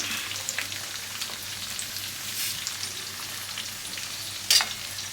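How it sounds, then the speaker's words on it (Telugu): Small onions and curry leaves fry in oil left over from frying fish, giving a steady, soft sizzle with faint crackles and one brief louder spatter near the end, with no voices. "ఇప్పుడు ఉల్లిపాయలు వేస్తాం కాబట్టి ఇదే నూనెలో ఈ ఉల్లిపాయలు కూడా మగ్గనిద్దాము"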